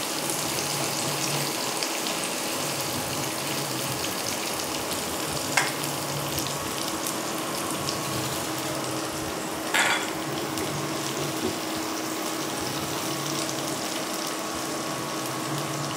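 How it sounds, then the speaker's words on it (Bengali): Onion, garlic and chili fry lightly in a pan with a soft, even sizzle throughout and a couple of brief utensil clinks, nearby and without speech. "পেঁয়াজটাও হালকা করে ভাজা হয়ে গেছে"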